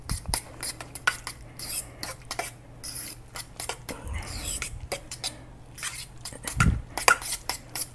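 Macaroni cake ingredients and Locatelli cheese are stirred in a bowl, producing close, irregular clinks and scrapes of a utensil against the dish, with soft mixing sounds between them.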